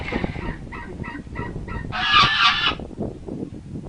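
Geese honk in a quick series of loud, nasal calls close by, followed by a harsher, hissing burst of honking.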